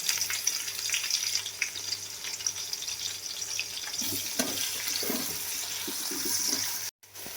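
Green chillies and onions frying in oil for chicken biryani, a steady close sizzle with bubbling, watery crackle that holds throughout, with a brief dropout near the end.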